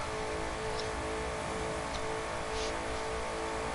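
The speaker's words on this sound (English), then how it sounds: "what can you tell about the fucking, car's engine sound right now?" A car engine drones steadily in the racing game The Crew 2, a dense continuous hum at constant loudness with little change in pitch and no talking.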